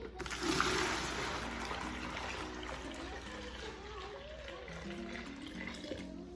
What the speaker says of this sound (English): I'm gonna take my water that I've been boiling, and I'm gonna pour it in.